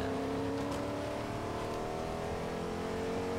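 Engine of a car driven in the video game Fortnite, a steady droning hum with layered tonal harmonics that rises slightly and holds throughout, loud and continuous with no talking.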